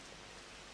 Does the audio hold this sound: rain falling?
yes